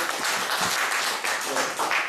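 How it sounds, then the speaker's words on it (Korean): Brief burst of audience clapping at a community discussion forum, a dense patter of hands that stays moderately loud and even for about two seconds. "박수 부탁드려요."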